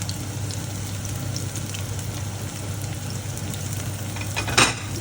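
Garlic sizzling in hot oil in a pan for garlic butter shrimp, a continuous crackling fry with a brief clatter of a utensil near the end.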